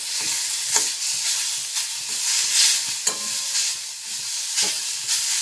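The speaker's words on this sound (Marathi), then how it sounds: "चांगलं भाजून घ्यायचं आहे बघा आपलं खोबरं हे कांदा हा चांगलं भाजून घ्यायचा आहे" Coconut and onion roasting in a pan give a steady, close sizzle with broadband crackle, broken by a few sharp scrapes and knocks of a stirring spoon.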